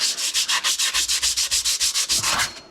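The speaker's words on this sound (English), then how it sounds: "Just get a bit of emery cloth here, a bit of 40 grit" Hand sanding with a strip of 40 grit emery cloth on a Dodge Aspen, a loud, close run of about fifteen rapid, even back-and-forth scrubbing strokes, with no voices.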